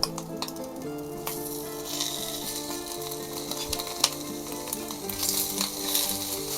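Hot dog sandwiches on Texas toast frying in a pan, a loud continuous sizzle with scraping and a sharp clink of a spatula against the pan partway through.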